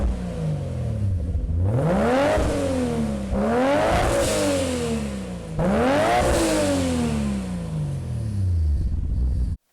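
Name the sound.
Nissan Skyline GT-R with HKS high-power exhaust revving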